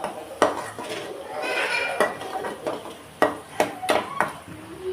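A spoon scrapes and clinks against a pan of small onions sautéing for chicken fry, with sharp metallic taps landing at irregular intervals over a soft, low sizzle. Faint background talk.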